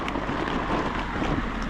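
Wind blows outdoors on a cold day in Michigan, a steady broadband rush and buffeting against the microphone, loud and continuous with no talking.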